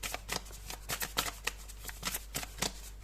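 A deck of tarot cards is shuffled close up in quick, rhythmic riffling bursts against a steady low hum, with no talking.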